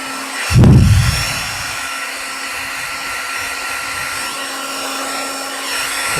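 An Itera K therapy device switching on and running, blowing warm air with a loud whoosh at start-up that settles into a steady, close, hair-dryer-like whir.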